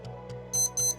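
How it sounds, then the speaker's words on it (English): A wristwatch alarm goes off with two short bursts of high, thin electronic beeping, heard close and clear over a low steady background hum, with no talk during the beeps. "there goes my watch alarm"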